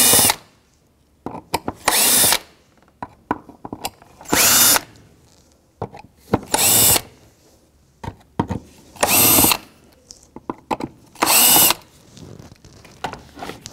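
Power drill spinning out T25 Torx screws from the airbox lid of a 2010-16 Buick LaCrosse, with five or six short, loud whirring bursts separated by quiet pauses.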